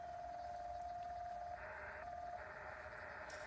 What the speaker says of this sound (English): This is nothing but Morse code,